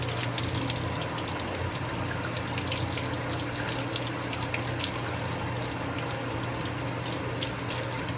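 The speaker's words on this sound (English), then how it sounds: "The first thing you do is you want to clean your nails under the water" Tap water runs steadily into a sink throughout while fingernails are scrubbed under the stream during a surgical hand scrub, a continuous close hiss and splash with no talking.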